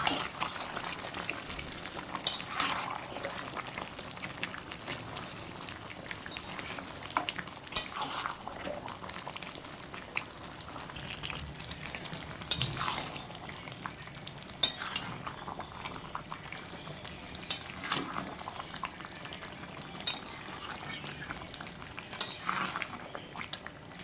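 Mutton curry with tomatoes cooks down in a pan, a low continuous bubbling and frying hiss broken by repeated scraping clinks of a spoon stirring, close and steady with no talking.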